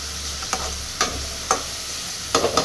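Green beans sizzle steadily in a hot pan for a beans poriyal, with sharp spatula scrapes and clinks landing about every half second, then a quick double stir near the end.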